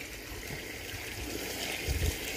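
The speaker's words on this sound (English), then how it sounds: "Yeah, that's a lot of water flow." Water rushes steadily from a newly upgraded 1/4 horsepower, 1800 gallon-per-hour aquaponics pump, a constant close splashing flow that swells slightly near the end, with no talking.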